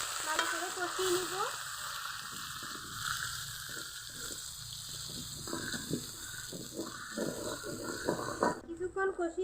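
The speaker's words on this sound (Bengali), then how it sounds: "ভালো করে কষিয়ে নিব।" Spices with tomato, green chili and ginger paste are sautéed in a pan, giving a faint, soft sizzle broken by repeated spatula scrapes and stirring knocks, close by and quiet.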